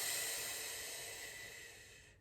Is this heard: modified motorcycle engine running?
no